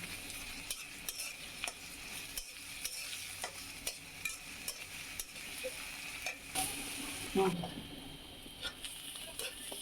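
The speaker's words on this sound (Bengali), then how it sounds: "এখন চিংড়ি মাছটা দিয়ে দিচ্ছি।" Prawns frying in a hot pan with chilli and salt, a steady sizzle broken by repeated spatula stirring scrapes, with one louder clatter near the end.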